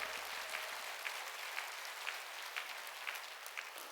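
Church congregation applauding at an outdoor mountain revival service, a continuous crowd of hands clapping with a faint rhythmic pulse, moderately distant and even throughout.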